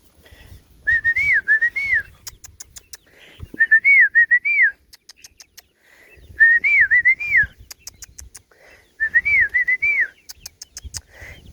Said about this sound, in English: I'll do my little whistle.